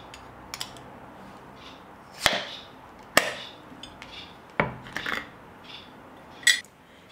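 A glass jar of preserved cooked rice meal is opened, with a few sharp clinks and taps of glass and metal scattered over a quiet background.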